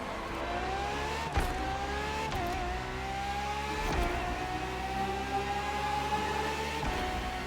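A Ferrari FXXK track-only race car in The Crew Motorfest roars close and loud, its engine revving up in long rising sweeps broken by sharp gear shifts, with no talking over it.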